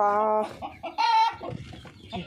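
Chickens cluck close by in a backyard coop, a rooster among them, with several overlapping calls in short bursts and one louder, higher call in the middle.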